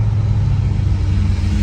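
A BMW E90 M3 V8 with open headers and no exhaust drones loudly close by during downshifts, with a deep, rough exhaust rumble, holding an even pitch throughout without clear revving peaks.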